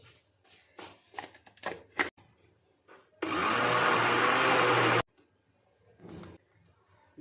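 A kitchen blender grinds besan (gram flour) batter for karhi pakora in one loud, steady whir lasting about two seconds, close up, with soft handling noises and brief speech before and after.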